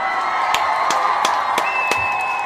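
Crowd applauding and cheering for the Umoja children at a gathering, a steady wash of clapping with sharp claps and whoops rising above it throughout.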